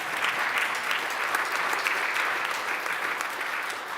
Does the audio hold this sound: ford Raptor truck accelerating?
no